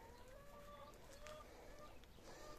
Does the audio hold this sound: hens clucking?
yes